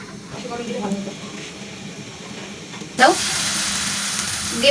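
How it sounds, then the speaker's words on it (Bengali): Egg frying in oil in a pan: a soft, steady sizzle that swells into a loud, bright hiss partway through and keeps going close by, with people talking over it. "একটা ডিম ফাটাই দিয়ে এখন তেল দিয়ে ভাজবে"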